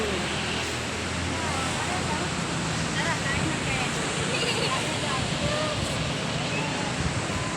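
Ocean surf at high tide in Oroquieta City roars continuously and loudly, a thick wash of breaking waves blended with wind buffeting the microphone.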